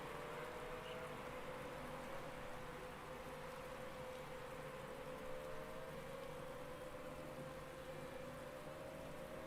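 Steady rain falling during an F1 racing video game, a faint, even wash of droplets that runs unbroken with a thin engine-like tone underneath and no talking.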